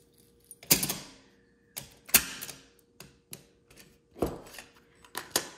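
A Nakamichi 600 cassette deck makes an odd mechanical noise: irregular sharp clicks and clunks, each trailing off briefly, spaced unevenly and heard close with no speech.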